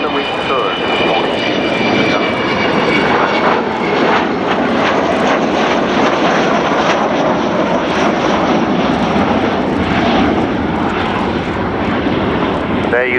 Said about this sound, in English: It's going to fly down the runway with her wheels down.